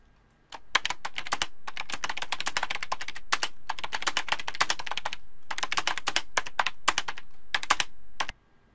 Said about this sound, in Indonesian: Kita lanjutkan mengetik.